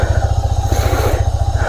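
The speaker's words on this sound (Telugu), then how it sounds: "నేనైతే ప్రజెంట్ అయితే బైక్ అయితే స్టార్ట్ చేస్తున్నా" A motorcycle engine runs close by with a fast, rhythmic low putter that pulses evenly throughout a short, loud stretch.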